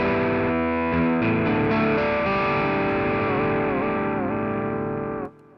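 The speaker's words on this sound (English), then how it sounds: "So yeah, there's some great electric guitars." Electric guitar voice with distortion and effects on a Casio Privia PX-S3000 digital piano, a sustained, gritty chord with pitch bends and wavering tones, loud and close before cutting off abruptly near the end.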